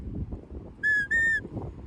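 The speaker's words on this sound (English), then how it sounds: "So those are the 4 basic whistle commands" Two short, clear high sheepdog whistle command blasts in quick succession, the second slightly longer, over low wind-like rumble.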